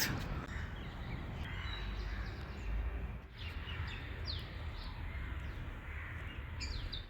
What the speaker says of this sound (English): Yes, birds, yes.